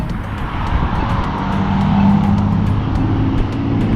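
Loud blue Ford Focus drives past on a street in Saskatoon, Canada, its engine roaring steadily near and close for several seconds, swelling slightly as it passes.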